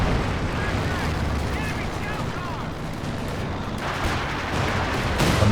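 A heavy mortar strike in Company of Heroes 2 during a 4v4 battle on a port map: dense, loud, rumbling explosions and gunfire merge into a continuous barrage with no clear gaps.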